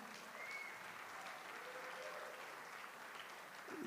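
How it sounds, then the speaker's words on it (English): Quiet applause from guests at a fundraising gala, a soft, steady wash of clapping heard from a distance, with faint voices in the room. "round of applause"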